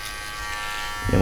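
Electric hair clippers set to zero buzz steadily while cutting a skin fade on the back section of a head, a close continuous hum that swells louder near the end.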